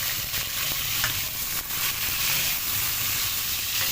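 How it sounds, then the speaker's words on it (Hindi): Eggplant pieces frying in hot ghee, a continuous close sizzling hiss with faint stirring scrapes, loud and steady with no voices. "अब इसी घी के अंदर हम थोड़े जो बैंगन है हमारे उनको भी इसी तरीके से फ्राई करेंगे"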